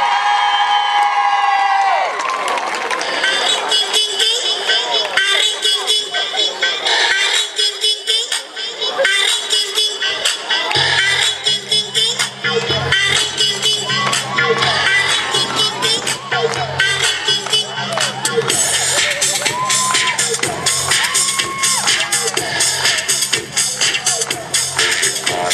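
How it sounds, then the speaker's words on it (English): A crowd cheers, whoops and applauds loudly for UK Latin American ballroom dancers at a dance event, with a sustained wash of shouting and clapping and a low rhythmic beat joining midway. "Please give a massive round of applause to our UK Latin American representatives, Ben Hardwick and Lucy"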